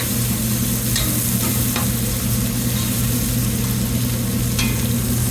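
Garlic, onion and chive or shallot fry steadily in a pan for curry conch, a continuous close sizzle with occasional stirring scrapes and a low hum underneath.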